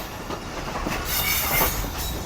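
Karakoram Express rolling through Khanewal, a steady loud rumble of railcars with brief wheel squeal and faint clickety-clack, the roar swelling slightly midway.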